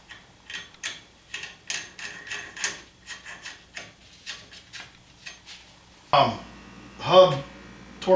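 A ratchet clicks in quick repeated bursts while tightening the hub nut on the front axle of a 2015 Arctic Cat Sport, followed by louder mechanical clunks near the end.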